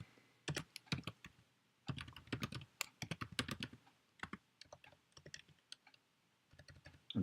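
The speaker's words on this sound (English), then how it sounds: "I think the keystrokes are right next to the microphone." Rapid keystrokes on a computer keyboard sit right next to the microphone, loud and close in uneven runs of clicks broken by brief pauses, with no voices.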